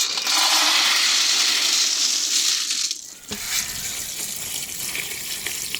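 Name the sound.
pouring water to soak small meal maker soya chunks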